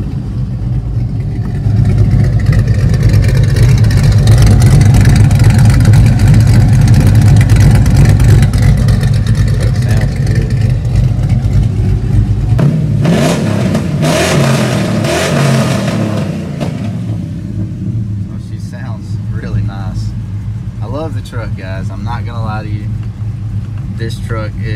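An LS V8 swapped into a Chevrolet Colorado pickup idles with a lopey small-cam rumble, then revs up sharply midway before settling back to a steady idle, loud and close.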